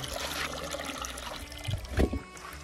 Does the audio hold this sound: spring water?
yes